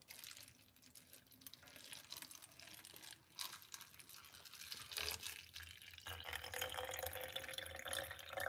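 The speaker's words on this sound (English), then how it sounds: "All right, here it is, water." Water is poured into a glass for a lime drink, a faint close splashing and trickling stream that grows fuller and louder toward the end.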